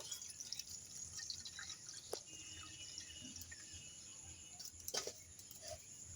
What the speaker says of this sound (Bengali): একে আমি জল ঝরিয়ে নেব